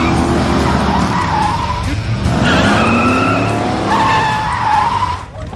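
A car brakes hard and skids, its tires squealing in long rising and falling wails for about five seconds before the sound drops off sharply at the end. The brake pads are worn out.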